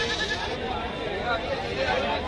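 Goat bleating at a busy Sunday riverfront livestock market, mixed into crowd noise and people talking nearby.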